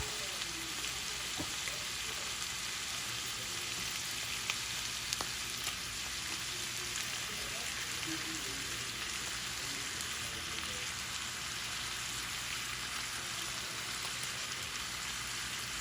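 Shrimp hitting a hot pan, setting off a dense, steady sizzle like rain on a surface that holds evenly throughout, close and moderately loud, with a faint voice now and then.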